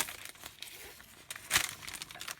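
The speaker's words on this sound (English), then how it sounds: "Sorry for the rustling." Paper rustles and crinkles at a painting workspace, soft and close, with uneven bursts of crackling and one louder crumple near the middle.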